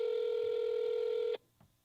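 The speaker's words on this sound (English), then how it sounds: "I'm gonna ring 2 more times." A telephone on an outgoing call gives one steady electronic tone that cuts off abruptly, followed by near silence.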